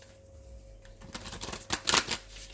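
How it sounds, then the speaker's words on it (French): A tarot card drawn and slid from the deck during a reading, heard as soft papery rustling and shuffling that builds into a brisk, close flurry of card friction near the end, with no talking. "Nous allons prendre une dernière carte"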